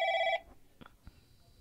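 A telephone rings in a horror video game, one loud electronic ring burst that cuts off abruptly, followed by a few faint clicks and a thin lingering tone, close and without talk.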